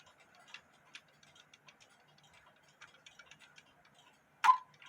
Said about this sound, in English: this is a quarter-hour cuckoo clock